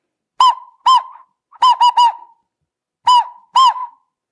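A flute mimics a barking owl's call in short hooting bursts grouped in twos and threes with brief gaps between groups, clear and close with no one talking; the voice is an instrumental imitation of the bird.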